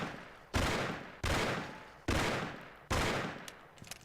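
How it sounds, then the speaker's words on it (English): Gunshots at a bottle in the video game Mafia, four loud, sharp blasts spaced about a second apart, each with a decaying echoing tail. "And I'm going to shoot this bottle."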